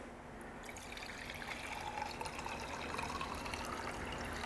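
Water poured from a glass beaker into a fuel sample: a faint, steady trickle and splash of liquid lasting several seconds, close by and heard alone.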